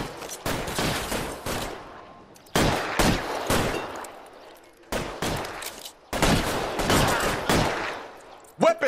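Pistol gunfire in L.A. Noire sounds as loud, close bursts of shots in several clusters, with echoing decay and short lulls between them.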